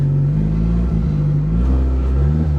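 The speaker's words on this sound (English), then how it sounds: "I want to hear you revving it high" Cammed Citroen C2 rally car revving hard on the road, a loud close engine roar rising and falling in sustained high-rev bursts with no talk over it.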